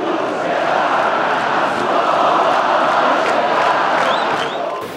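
A dense, loud stadium crowd of football fans roars and chants steadily at Maracanã ahead of a derby against Flamengo, with a couple of shrill whistles rising near the end.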